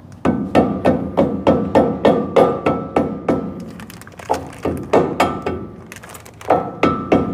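Repeated heavy hammer blows on metal while fitting a part to a 1956 Chevy Bel Air, a fast steady series of loud close strikes with a brief pause midway before the pounding resumes.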